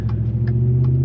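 Low, steady engine rumble from a Gen1 2013 Ford Raptor SVT pickup, a continuous deep drone held close and loud for about a second, with faint higher mechanical ticks above it.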